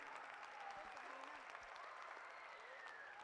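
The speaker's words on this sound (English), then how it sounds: "Big round of applause for Idris." An audience at a school function claps steadily as a sustained wash of applause through the whole stretch, moderately loud with no distinct voices.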